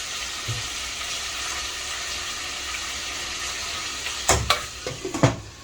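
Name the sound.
organ meats cooking and simmering in a covered pot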